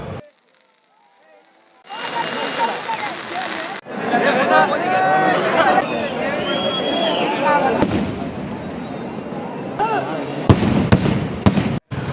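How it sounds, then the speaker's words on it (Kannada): Firecrackers pop and crackle in dense bursts after a quiet start at the Siddaganga temple fair, with a crowd murmuring and a few sharp bangs near the end. "ನೀವು ಪಟಾಕಿ ಹೊಡೆಯೋದನ್ನ ನೋಡ್ಕೊಂಬಿಡಿ."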